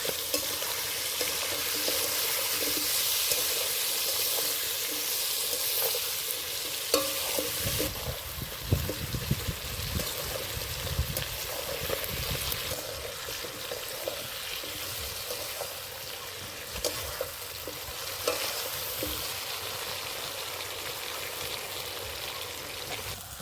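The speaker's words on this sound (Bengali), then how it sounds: "দিয়ে দেবো টমেটো কুচি সেরা কাঁচা লঙ্কা এবার ভালো করে কষে নেবো" Taro, chopped tomato and green chili stirred and sautéed in a pan for a shol fish curry, a steady crackling sizzle with scraping stir noises, close and continuous without speech.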